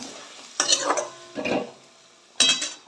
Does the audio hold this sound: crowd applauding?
no